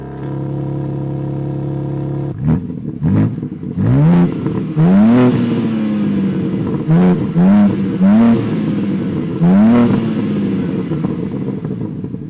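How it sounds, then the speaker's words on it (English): A 2022 BMW M4's steady exhaust idle in M mode gives way to repeated sharp throttle blips, the engine snarling upward and crackling back down several times, loud and close. "And now the exhaust note in M mode."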